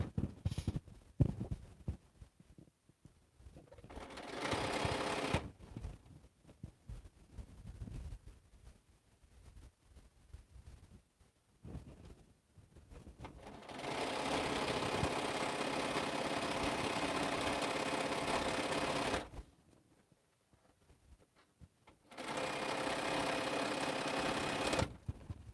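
A home sewing machine stitching light quilt blocks with a darker coral print, running in sustained bursts of steady mechanical whirring with short pauses between seams, close and fairly loud.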